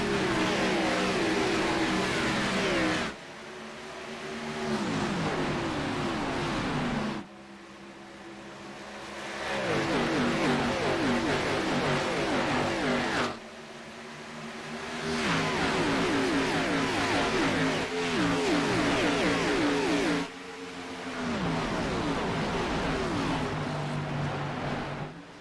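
Race cars in the iRacing sim at Homestead-Miami roar loudly as the field takes the green flag, engines rising in pitch through repeated upshifts, each climb dropping and restarting in a steady cycle, with no voices.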